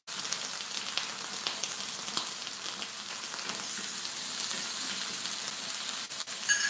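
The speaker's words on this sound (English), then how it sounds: "I want to fish up this one and fry them." Dumplings frying in a hotpot pan give a continuous close crackling sizzle, even and steady, rising slightly toward the end.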